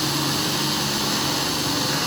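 A steady, loud whine of a drill boring a 1/8 inch pilot hole into a spot weld on a 1969 Pontiac Firebird quarter panel, continuous and close with no talk.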